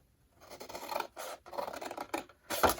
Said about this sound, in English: This middle square right here, you're gonna cut just cut on the 2 lines